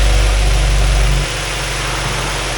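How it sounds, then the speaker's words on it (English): A 2002 Mazda Miata engine idles after a cold start from sitting overnight, a steady low rumble that is loud at first and then drops to a quieter, even idle partway through, with no voices. "Runs good. CD player's bad. It's a cold start from overnight."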